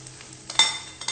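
Tofu fries in a pan at home, giving off a soft, steady sizzle with a brief louder hiss and a faint clink of a utensil.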